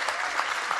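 A festival panel audience claps in a brief, dense burst of applause, close and steady.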